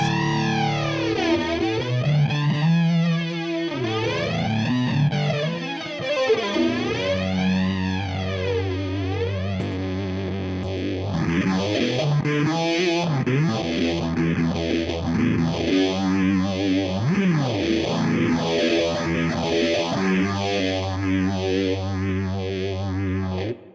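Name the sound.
guitar through flanger and fuzz pedal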